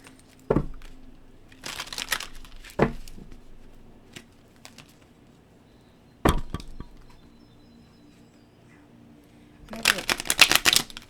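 Several bursts of cards being riffled and bridged, short crisp flurries spaced apart with quiet gaps, the last burst longest and loudest.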